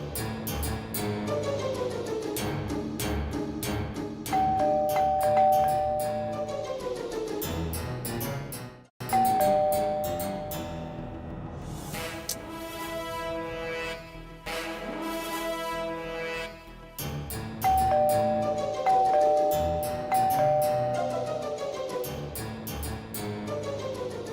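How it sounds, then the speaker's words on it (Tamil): A doorbell rings over and over, its melodic chime repeating in loud bursts separated by brief pauses. "யாராவது வந்து காலிங் பெல் அடிச்சு தொல்லை பண்ணிட்டே இருக்காங்க."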